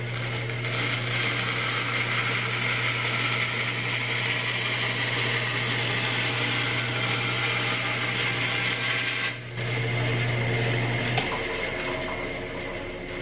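A JET 14-inch bandsaw cutting a 3/4-inch-thick piece of red cedar, with a steady loud mechanical whine and blade hum that shift briefly near the end of the cut.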